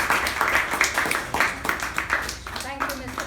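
An audience at a Toastmasters club meeting claps to welcome a speaker, a rhythmic patter of hand claps with talking over it that fades near the end.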